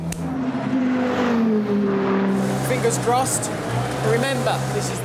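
A Volkswagen Golf GTI 235 being driven on the Nürburgring Nordschleife, its engine droning and shifting pitch up and down at close range, with a voice speaking over the engine noise.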